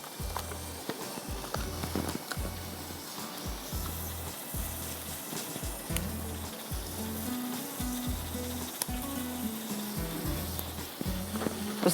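Whole spices, cinnamon pieces and black cardamom pods, sizzle steadily in hot oil for a mutton daal, a continuous crackling hiss with occasional stirring knocks beneath a faint low hum.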